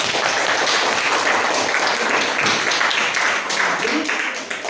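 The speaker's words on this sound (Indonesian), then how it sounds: "Oke, tepuk tangan dulu." A group claps together in a steady, fairly loud burst of applause for a few seconds, with some voices mixed in.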